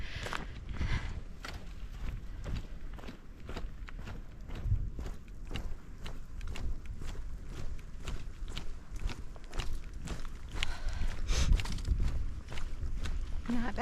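A hiker walks along a forested stretch of the Appalachian Trail, with soft, steady footsteps crunching at a regular pace over the dirt path, faint and close, against a light outdoor background.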